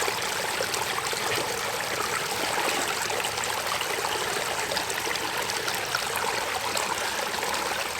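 Water flows steadily at a microhydro turbine site, with leaks adding to a broad, constant rushing wash of stream noise that stays even and close throughout.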